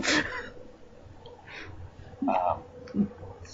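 A single sneeze near the start, bursting out close and fairly loud amid a podcast conversation, followed by a few short throaty sounds and voices.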